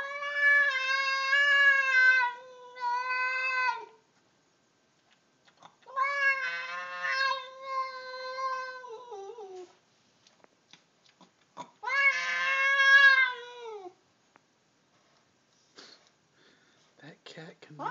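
A cat meows in three long, drawn-out cries separated by pauses, close and clear, with faint sniffing and small noises between.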